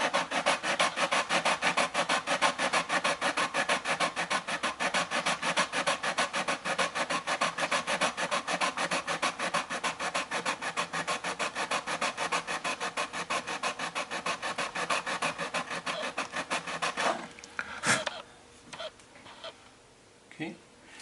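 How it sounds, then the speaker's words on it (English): Fine-grit sandpaper sands a viola part during an acoustic repair. It makes a close, rapid, rhythmic rasping that keeps going steadily and then trails off into a few scattered scrapes. "the finer the grit, the paper is actually slightly thinner. So you get a closer and closer fit with each finer grit"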